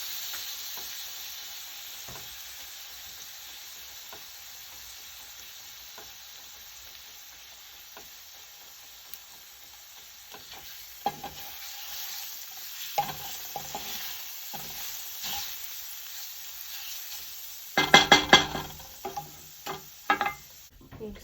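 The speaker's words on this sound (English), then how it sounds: "On low heat, and then I have some sage. I'm going to throw some sage in there." Sage leaves fry in a pan over low heat, giving a steady soft sizzle, then stirring adds scraping clatter and louder bursts near the end, all close by with no talking.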